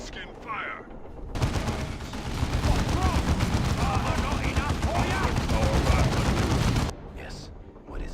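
Ork alien gunfire in the Dawn of War 2 video game, a sustained roaring barrage of rapid shots and blasts lasting several seconds, with brief battle sounds before and after.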